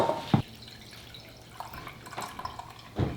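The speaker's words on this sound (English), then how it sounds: "we're going to strain it" An infused liquid is strained into a jug, giving a few scattered close drips and small splashes with quiet gaps between them.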